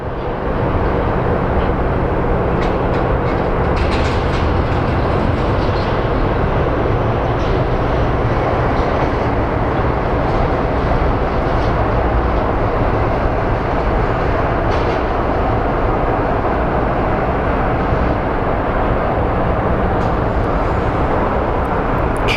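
A passenger jet from Nashville lands at Phoenix Sky Harbor airport, heard as a loud, steady broadband roar of engines and rushing air that holds constant throughout, with no talk.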